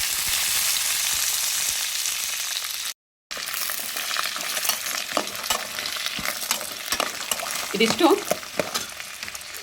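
Carrots, beans and green peas with a bay leaf frying in oil for a pea curry, steady close sizzling with scraping stirs that grow more active toward the end and a brief spoken word.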